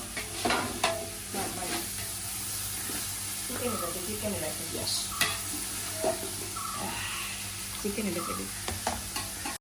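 Biryani masala sautés in a pan, with a steady sizzle and the scrape of stirring running throughout while people talk over it.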